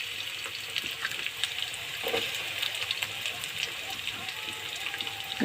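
Onions and thinly sliced, peeled potatoes fry in a pan with a steady close sizzle and hiss, while a person speaks over it.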